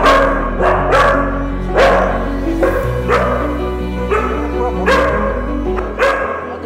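A husky barks loudly and close up at a pet hotel in Dhaka, letting out about eight sharp barks in an uneven rhythm over a low steady hum.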